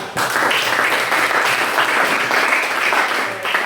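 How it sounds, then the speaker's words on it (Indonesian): A classroom of teachers in training applauds a presenting group, brisk and fairly loud clapping that swells quickly and carries on evenly for a few seconds before tapering slightly. "kasih tepuk tangan yang luar biasa untuk kelompok 3"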